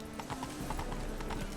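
Hooves of Roach, the horse in The Witcher 3: Wild Hunt, clip-clopping in a quick, steady walking rhythm, close and clear over a low ambient bed.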